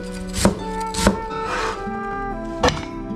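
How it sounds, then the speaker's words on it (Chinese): A knife slices a slightly sprouting onion into thin strips on a cutting board, with three crisp, separate chopping knocks spread over a few seconds and a steady tonal hum underneath. "洋葱切成丝。"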